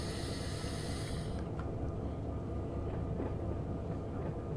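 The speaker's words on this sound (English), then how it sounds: "So we're going to hit the train brakes," A loud hiss of train brakes in the Run 8 train simulator game releases air and then cuts off, leaving a steady low rumble of a rolling train.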